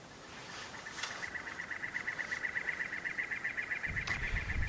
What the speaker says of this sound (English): haven't heard that bird song before, it's a cactus wren